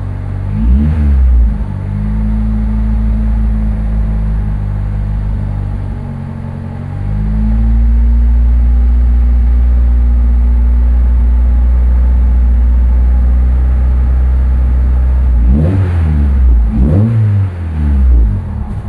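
A Honda Civic Ferio engine idling to warm up before an oil flush at home, a loud deep steady drone with low rumbling harmonics and a couple of brief revs near the start and end, no talking.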